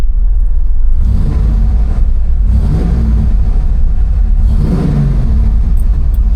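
A 1982 Ford F-150 pickup engine with a new exhaust revs up in loud, throaty bursts over a steady deep idle rumble, close by with no talking.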